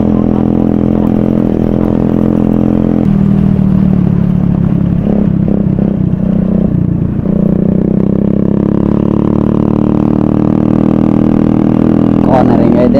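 Loud Honda Dio scooter with an aftermarket exhaust runs steadily and close, its engine droning at a constant level with a brief uneven patch midway and a sharp clatter near the end.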